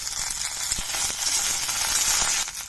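Chana dal, coriander seeds, garlic cloves, curry leaves and green chillies frying in oil in a pan for coconut peanut chutney, a continuous close sizzle with a few faint stirring knocks.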